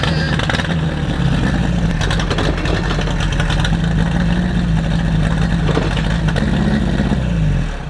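A Chevrolet Chevette converted into a drift car idles close by with a steady, rough low engine drone and slight rev fluctuations, and it settles toward the end.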